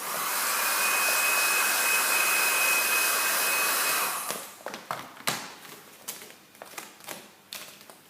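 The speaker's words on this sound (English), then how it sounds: "I need to kind of go back in with the heat gun, resettle it" A heat gun blows hot air steadily onto vinyl wrap on the bonnet of an Audi R8 GT3 for about four seconds, then cuts off, followed by scattered taps and handling noises of the film being worked.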